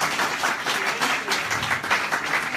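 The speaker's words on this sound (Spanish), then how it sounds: "Un aplauso para ustedes," An audience claps and applauds continuously for a few seconds, a lively, fairly close patter of many hands with no talk over it.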